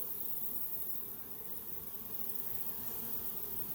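A honey bee swarm buzzes close and steady, a dense continuous drone of many wings with no pauses and no voices.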